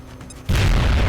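A grenade blast in the XCOM Long War strategy game, a sudden loud boom that bursts in after a quiet moment and rolls on as a dense, rumbling roar.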